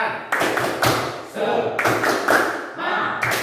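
A class of students performs rhythmic spirit claps in unison, sharp grouped bursts of hand claps repeating close and loud, with brief pauses between rounds and no talking over them.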